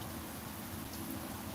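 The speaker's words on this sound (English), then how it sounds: "Watch the rain fall." Steady rain pours down outside a garage on a wet day, a dense, even hiss of drops hitting surfaces with no breaks and no voices.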